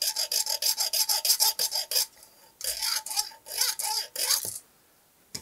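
A hacksaw blade rasps back and forth cutting a groove into a diamond kite frame, close and steady strokes in rapid rhythm, pausing briefly, then resuming before stopping.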